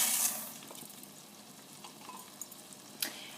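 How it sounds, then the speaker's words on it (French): Rice sautéing in melted butter inside a heavy cooking pot for a mushroom risotto: a soft, steady frying hiss, fairly quiet, with a clatter of stirring near the start and another near the end. "Je commence par y faire fondre le beurre et j'y fais revenir mon riz."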